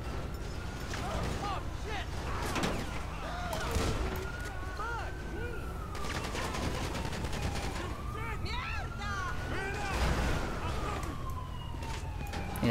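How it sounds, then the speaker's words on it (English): Rapid bursts of automatic gunfire in a police video game crackle continuously while a siren wails and voices shout over the chaotic, loud scene. "Automatic gunfire."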